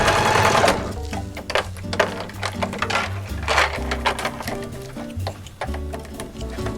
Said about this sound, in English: I'm going to do a back stitch to set that.